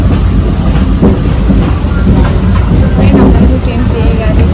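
A local commuter train running along the rails, a loud steady rumble with faint clattering of wheels, heard close from on board or beside the track, with speech over it.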